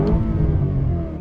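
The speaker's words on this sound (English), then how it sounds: "oh, the engine comes alive." A Lamborghini Urus SE with its V8 hybrid engine in sport mode revs steadily, a loud, sustained engine roar heard up close with no talking over it.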